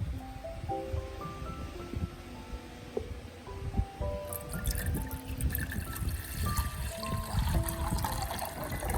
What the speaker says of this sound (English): I add them both to a pot with 500 milliliters of clean water